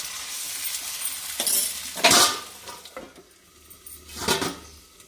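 A lid clinks down onto a metal cooking pot of broad bean curry, with two or three sharp metallic clatters standing out over quieter kitchen handling, close and fairly loud.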